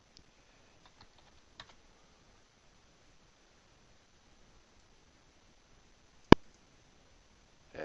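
A few scattered keystrokes on a computer keyboard while building a sphere in Rhino 3D modeling software, ending with one sharp, louder press of the Enter key and a brief flurry of keys; quiet and close, with no talk.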